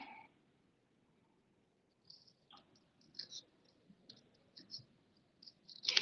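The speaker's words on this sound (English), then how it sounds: "I kind of think about my scissors as a bandsaw when I'm fussy cutting" Small scissors fussy cutting a paper seagull stamp image make quiet, crisp snips in a scattered series after a silent start, ending with a louder close burst of paper rustle.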